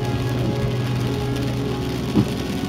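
Steady rain drumming on a car windshield while driving at night through a monsoon storm, a constant wash of drops with low road rumble and one brief louder splash near the end.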